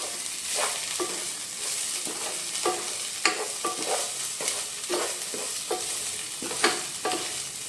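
Chili powder is stirred into a frying Nethalu dried-fish curry, with repeated scraping strokes of a spoon against the pan in an irregular rhythm over a continuous sizzle, close and fairly loud.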